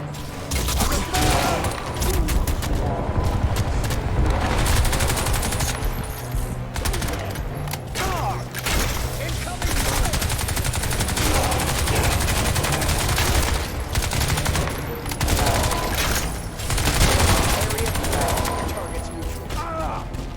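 Dense, sustained gunfire from the video game Crysis 2 fills the whole stretch with rapid bursts and repeated shots at close range, loud and nearly continuous, with voices shouting beneath it.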